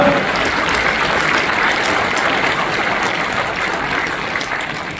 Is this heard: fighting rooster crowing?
no